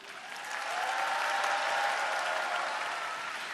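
A church audience at a Bible recitation contest gives a sustained round of applause that swells after a moment and holds, a dense, even crowd of clapping hands heard from within the hall.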